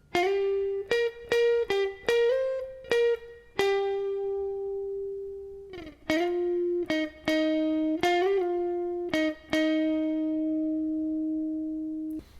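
A clean electric guitar plays a lick of plucked single notes, some quick and staccato, others ringing out, with a brief pause midway.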